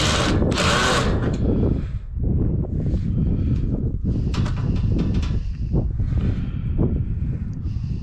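A power drill with a Phillips bit whirs loudly and continuously up close, pausing briefly and revving again as it backs screws out of an electric range, with a faint outdoor background.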